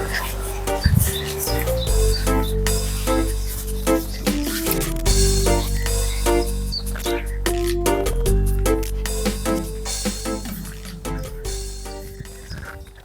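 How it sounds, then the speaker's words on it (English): Birds chirp and tweet here and there over a steady outdoor background in Balloch Castle Country Park near Loch Lomond, with occasional soft knocks and movement nearby. "you can hear the birds, you can hear the bird song"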